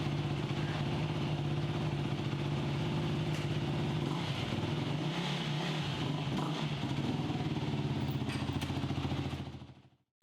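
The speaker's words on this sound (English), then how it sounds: "let the engine run for about 10 minutes" A 4-stroke ATV or motorcycle engine idles steadily after an oil change, a close, even low rumble with mechanical clatter that continues unbroken for about ten seconds before cutting out at the end.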